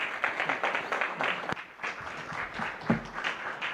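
Conference audience clapping after a keynote at a tech summit, a scattered, moderately loud round of applause with a few sharper claps, lasting a few seconds.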